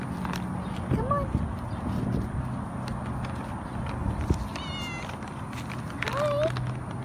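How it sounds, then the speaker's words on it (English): A pet cat meows twice, short rising calls about five seconds apart, over steady background noise with faint voices. "First stop, my cat Molly"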